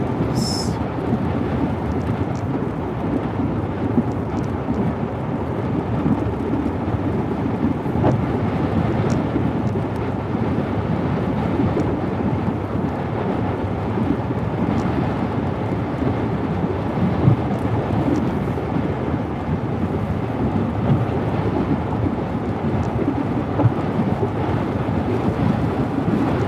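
Wind roars during a thunderstorm on the Gulf Coast near Wilmer, Alabama, a loud, continuous buffeting rumble that hits the microphone for the whole stretch with no let-up.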